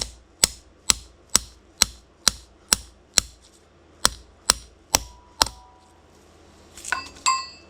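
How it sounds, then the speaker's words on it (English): A brass hammer tapping a socket to press a part into a Takeuchi TL26 tracked skid steer, about eleven sharp metallic taps in an even rhythm, then a brief higher ringing clink at the end. "I'm just going to use a socket and a brass hammer."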